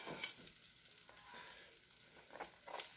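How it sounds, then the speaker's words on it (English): Butter sizzles steadily in a hot pan while mall-style pretzels cook, a continuous close crackling hiss with brief louder pops near the end and no talking. "Listen to that sizzle."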